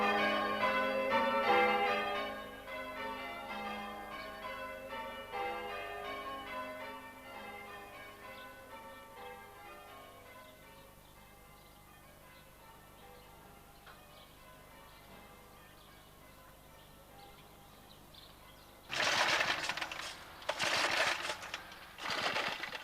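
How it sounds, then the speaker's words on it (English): Church bells ring out in a layered peal of overlapping chimes that slowly fade, followed near the end by a few loud bursts of rough noise. "to keep the church alive through the sound of the bells."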